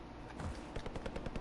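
Rapid automatic gunfire from the shooter game Call of Duty Warzone, a quick run of sharp cracking bursts over dense battlefield noise, loud and close, with no voices.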